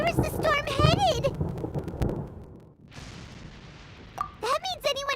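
A heavy storm rumbles and crashes in the video game Genshin Impact, with a broad burst of thunder between stretches of animated character voices talking.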